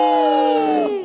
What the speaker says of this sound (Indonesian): Mari beri tepuk tangan buat dia.